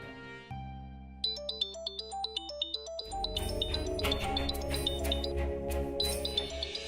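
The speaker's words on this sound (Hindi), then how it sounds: "दादी का फोन।" A phone ringtone plays a bright, repeating electronic melody that gives way to fuller, busier music, steady and moderately quiet with no talk.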